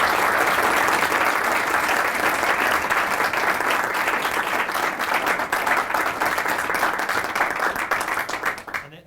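An audience at a panel discussion on search funds breaks into sustained, dense applause from many hands, continuing steadily before thinning out toward the end.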